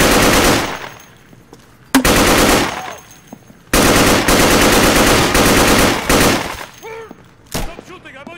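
Machine gun fire in the video game Insurgency rattles in loud, sustained automatic bursts separated by short pauses, close and harsh, with shouting voices in the gaps.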